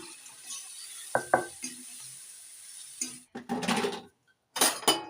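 Pakoras are added to masala frying in oil in a pan: a few utensil clinks and scrapes, then bursts of sizzling that rise and cut off, quiet and close.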